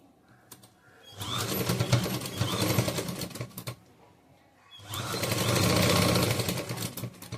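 A sewing machine runs in two sustained bursts, sewing an edge seam on a churidar made from a saree, loud and close with a short pause between runs and no talk.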